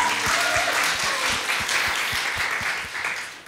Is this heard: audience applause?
yes